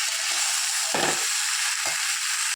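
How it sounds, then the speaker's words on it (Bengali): Fish head and vegetables frying in oil for a spinach chorchori, a steady loud sizzle with two brief scraping stirs of the utensil in the pan, close by and without talk. "মাছের মাথাটা আর আনাজগুলো দিয়ে ভালো করে নাড়াচাড়া করে নেবে।"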